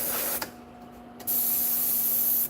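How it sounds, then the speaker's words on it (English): Aerosol spray paint applied to model vehicle rims, a loud close hiss in two bursts separated by a short pause, the second burst longer and steady. "I'm going to go ahead and spray the rims as well"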